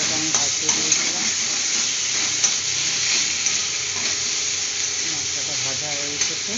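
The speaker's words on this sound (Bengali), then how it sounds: "মশলাটা আমি ভাজতে দিয়েছিলাম," Spice masala frying in a pan, a continuous even sizzle and hiss with light stirring scrapes and a few soft clinks, close and steady throughout, no voices.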